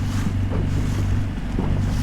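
A new dinghy running along a sea shoreline near rocky outcroppings, with a steady low engine drone, rushing water and heavy wind buffeting the microphone throughout, close and loud with no talk.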